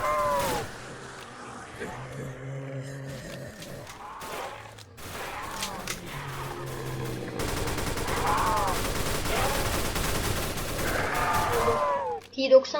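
Rapid automatic gunfire sprays zombies in the Roblox game Lazarus Project, sustained bursts running loud and dense through the second half, with game effects and some voice earlier.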